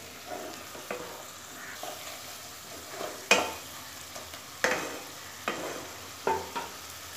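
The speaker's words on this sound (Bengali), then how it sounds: "দিয়ে ভালো মতো নেড়ে চেড়ে মিশিয়ে দেব।" A spoon stirs pumpkin curry with turmeric in a frying pan, making repeated scraping strokes every second or so over a soft, low sizzle.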